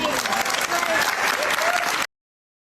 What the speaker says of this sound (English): The whole room, those applause.